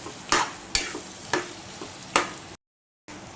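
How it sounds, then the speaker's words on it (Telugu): Brinjal curry with turmeric frying in oil, a soft sizzle under four evenly spaced scraping stirs of a spoon, close and alone, followed by a brief cut to silence. "దీన్ని బాగా కొద్దిసేపు ఒక 2 నిమిషాలు వేగనివ్వాలి."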